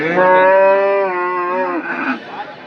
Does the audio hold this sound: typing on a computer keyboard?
no